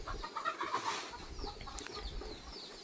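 Chicks on a farm clucking and peeping during feeding, a busy cluster of small chirps and calls near and moderately loud over low rustling background noise.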